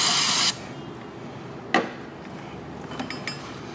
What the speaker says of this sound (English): we're gonna clean that mating surface with some carburetor spray